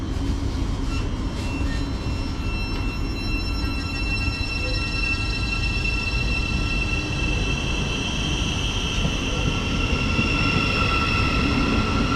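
A train departs Foxton station toward Cambridge, rumbling steadily nearby with a continuous low roar and faint high metallic whines from the wheels, holding an even loudness throughout.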